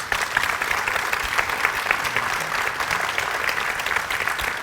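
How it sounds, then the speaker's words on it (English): Audience applause for panel members at a leadership event by BDO in Brisbane, sustained clapping from a sizeable crowd, even and moderately loud across nearly five seconds, with no talking over it. "Round of applause."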